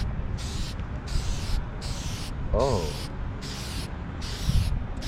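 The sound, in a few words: spraying clear coat from spray can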